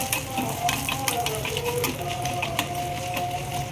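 Dried red chillies frying in a little oil in a pan, a steady crackling sizzle with faint stirring clicks throughout, fairly quiet and close, no voices.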